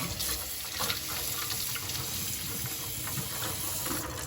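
Tap water runs steadily into a kitchen sink while tofu is rinsed, a close, constant splashing hiss with no break.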